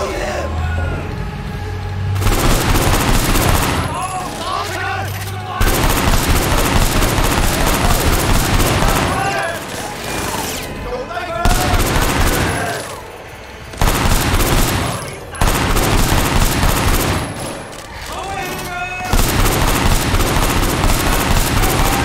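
Rapid bursts of automatic gunfire fill a cops-and-gangsters video game shootout, with loud clustered volleys separated by brief lulls. A player talks over the shooting.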